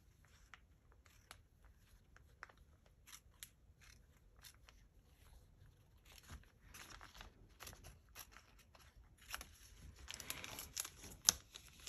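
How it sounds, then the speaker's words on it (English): Snipping and crinkling of plastic being cut with scissors, quiet and close, with short irregular bursts that grow busier toward the end. "We're going to start by taking a plastic bag and just cutting off"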